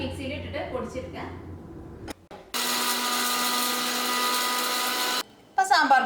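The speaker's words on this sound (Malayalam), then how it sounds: "ഇനി നമുക്ക് മിക്സിയിൽ ഇട്ടിട്ട് പൊടിച്ചെടുക്കാം" A mixer grinder whirs loudly and steadily for about three seconds as it grinds roasted spices into homemade sambar powder. A voice speaks before the motor starts, and there are brief clatters afterward.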